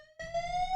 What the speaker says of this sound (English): fire alarm's going off in my fucking apartment